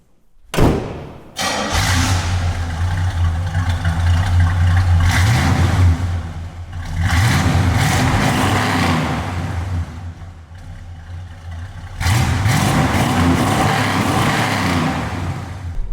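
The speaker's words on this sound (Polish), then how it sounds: "na wysokich obrotach potrafi wydobyć z siebie ten piękny bulgot V8" A Chevrolet Chevelle with a V8 engine revs hard in bursts, its deep burbling roar swelling and falling in three loud sustained pulls after an opening thump, with short quieter gaps between.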